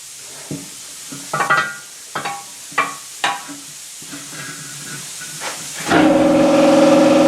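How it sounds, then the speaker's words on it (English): An air compressor in a shop where tires are being fitted on a Shoebox Ford: a few loud metallic knocks and clanks, then the compressor kicks on with a steady, loud, humming roar that runs to the end. "And there's the compressor."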